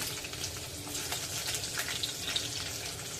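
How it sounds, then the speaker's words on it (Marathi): Sliced onion going into hot oil with cumin for an amaranth leaf dish gives a steady, close crackling sizzle that runs unbroken through the short stretch, with no one speaking. "तेल तापलेलं आहे आपण त्यामध्ये एक चमचा जिरं घालूया"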